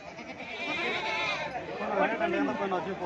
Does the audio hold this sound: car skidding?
no